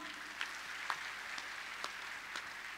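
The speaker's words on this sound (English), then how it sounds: "A big round of applause for her." A concert crowd in a New Delhi stadium applauds a songwriter, a soft, distant, steady patter of clapping with a few sharper claps standing out.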